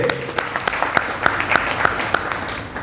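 Audience at a question-and-answer session with jail inmates applauds steadily for nearly three seconds, a dense mid-level clatter of many hands with sharper individual claps standing out.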